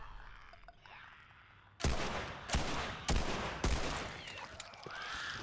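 Gunfire in The Last of Us Remastered on PS4: four loud, sharp shots spaced about a second apart, each cutting through a low ambient background and leaving a short decaying tail.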